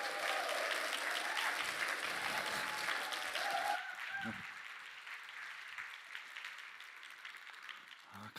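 Young people at a church mission conference give a missionary a loud, dense round of applause that fades after a few seconds, leaving scattered claps and low murmuring.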